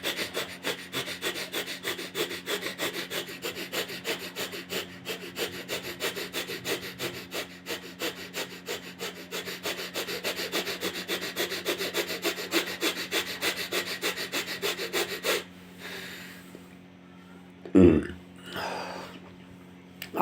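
Fast, forceful yoga pranayama breathing: a steady train of quick, rhythmic, close breaths pumping for about fifteen seconds, then stopping, followed by a couple of isolated bursts of breath.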